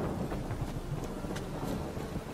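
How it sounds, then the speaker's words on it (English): Steady heavy rain and a low rumbling wash of thunder fill a Witcher 3 storm scene in the town of Novigrad, constant and close with no voices. "Girl's dancing in the rain like an idiot."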